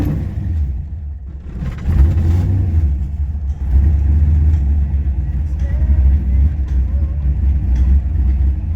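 A car engine with modified oil bearings, enlarged oil passages and a high-volume, high-pressure oil pump idles cold on a mild day, rumbling steadily and loud close by with a slightly uneven idle and no talk.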